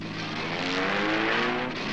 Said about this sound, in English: We got into the car and roared off